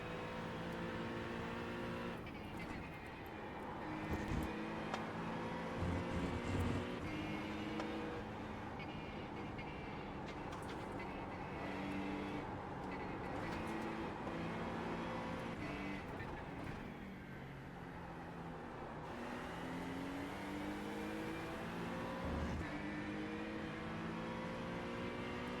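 GT3 race cars, including an Acura GT3 and BMWs, lapping Fuji in the iRacing sim, with a steady engine drone, rising and falling revs through gear changes and other cars nearby, at low level.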